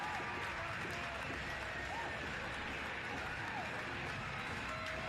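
A stadium crowd roars and cheers steadily after a goal at a Union Omaha versus Westchester SC soccer match, a dense distant wash of voices with scattered whistles and shouts throughout.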